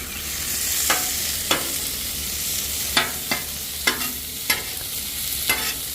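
Jalapenos frying with meat on a Blackstone griddle, a close, constant sizzle broken by about eight sharp scrapes and taps of a spatula on the flat steel; no voices.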